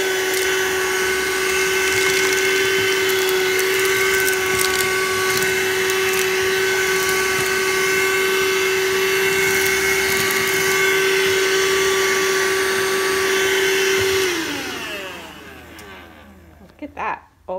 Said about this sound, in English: It's this Shark hand vac here.